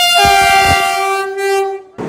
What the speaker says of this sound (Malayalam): വൈകിട്ട് 4:30 ട്രെയിൻ എത്തി.